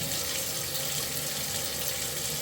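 Very hot water gushes steadily from a kitchen tap into a sink, a loud, continuous, close hiss of running water with no pauses and no voices.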